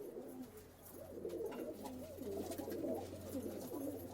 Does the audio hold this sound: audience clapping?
no